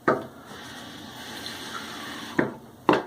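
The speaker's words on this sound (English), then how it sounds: "Just dip the bristles and paint some water on." Water trickles softly as a shaving brush is dipped and wetted before a shave, with two short, sharper splashes near the end.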